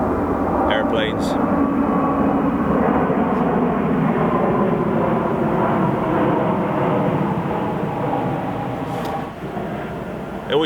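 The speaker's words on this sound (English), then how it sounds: "It always seems to be gunfire or airplanes in the background of my videos." An airplane drones steadily overhead in the woods, a loud continuous broadband rumble that holds through the whole stretch before easing slightly at the end, with a voice speaking briefly over it.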